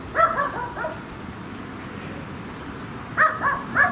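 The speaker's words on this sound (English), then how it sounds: "Don't mind the moron dog next door." A dog next door barks in two short bursts of a few sharp yips each, at the start and end, moderately loud against quiet outdoor background.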